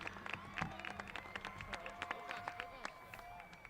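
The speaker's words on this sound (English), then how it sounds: "Everybody, give them a big round of applause" Applause for a graduating class at a school graduation ceremony, a crowd clapping steadily at a moderate distance with voices talking and calling out over it.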